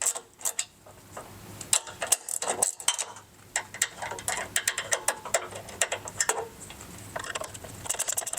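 A ratchet tightens lock nuts onto the mounting screws of a mid-ship mud flap on a 2024 Ford Ranger Raptor, giving quick bursts of close metallic clicking that pause briefly and then resume, with no talk.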